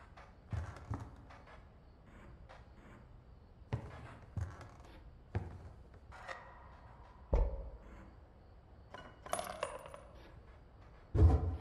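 Teeth tokens are collected in the card game Inscryption, a series of separate small clicking, clinking drops spaced every second or so, with a few brighter chimes, heard alone against quiet.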